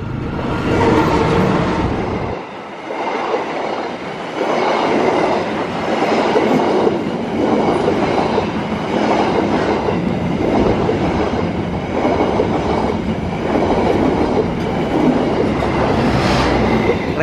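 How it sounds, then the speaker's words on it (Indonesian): The Lodaya passenger train rolls past close by on a straight track, steady rumble with a repeating clickety-clack of wheels over rail joints, loud throughout. "Ini adalah kereta api Lodaya ya"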